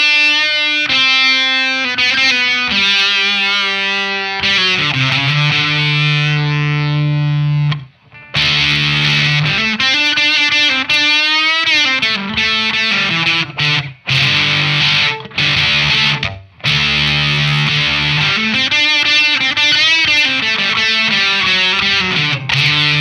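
Electric guitar through an LSL Moon City Fuzz pedal with volume and tone rolled back, playing thick, sustained fuzzy chords and riffs, loud and upfront with brief gaps between phrases.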